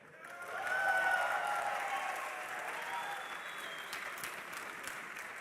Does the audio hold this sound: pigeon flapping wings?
no